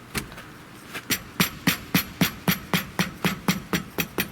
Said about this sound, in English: Tap it on with a hammer.